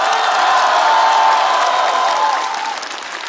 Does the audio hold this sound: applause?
yes